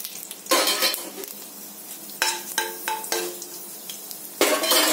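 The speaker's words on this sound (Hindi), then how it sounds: "अब मैं तड़के के लिए डाल रही हूँ मेथी दाना और तेज पत्ता" Fenugreek seeds and bay leaf hit hot oil for a tadka: bright sizzling bursts come in waves, broken by spoon scrapes and metal clinks against the pan, close and fairly loud, with no voices.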